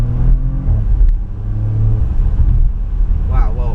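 A Porsche Macan Turbo accelerating hard in Sport mode, its engine giving a deep rising rumble from inside the cabin while a person talks over it.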